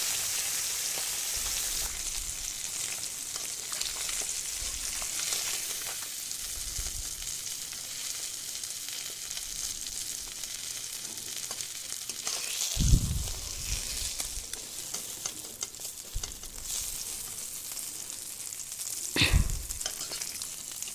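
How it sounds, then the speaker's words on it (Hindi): Small fish fry in oil in a pan for a fish and eggplant gravy, giving a steady soft sizzle throughout with a few louder bursts of crackle and spatter, heard alone without talk. "सभी मछलियों को दोनों साइड से अच्छी तरह से फ्राई करना है।"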